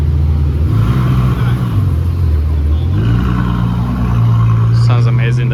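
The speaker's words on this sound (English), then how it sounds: "Sounds amazing, the F12." Ferrari F12 V12 engine and exhaust revving at a cars and coffee meet in Dubai, a loud, deep rumble that rises and falls in pitch as it idles and revs, heard up close with people talking over it.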